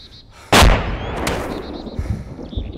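Sharp gunshots in the military shooter ArmA 2 with the ACE mod: one loud, close blast, then a fainter second report and a rumbling tail, with no talk over it.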